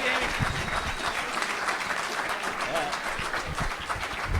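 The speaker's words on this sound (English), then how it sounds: "Give her a round of applause" A crowd at a local community event breaks into a round of applause, a steady wash of clapping hands with voices and chatter mixed underneath.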